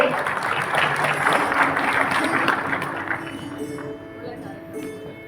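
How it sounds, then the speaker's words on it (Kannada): A seminar audience at a sugarcane farming event in Belagavi claps in a loud, sustained round of applause that thins and fades toward the end. "ದೊಡ್ಡದಾದಂತಹ ಚಪ್ಪಾಳೆ"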